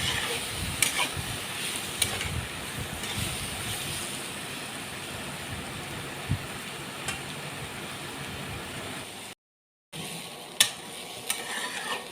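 Young jackfruit pieces fry with turmeric powder in a wok, and a continuous sizzle runs under repeated stirring scrapes and clinks. A brief full silence comes near the end, then the frying resumes.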